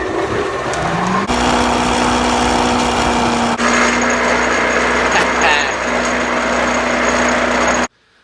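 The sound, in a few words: box joint cutter machine running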